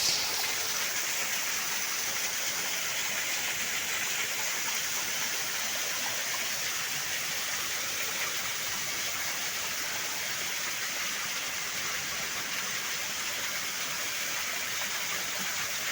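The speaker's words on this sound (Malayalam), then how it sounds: "പുറത്ത് നല്ല മിന്നലും ഇടിയും മഴയുമാണ്" Heavy rain pours outside a cave as a steady, dense hiss of falling water that holds evenly for sixteen seconds, with no distinct thunderclap standing out and no voices.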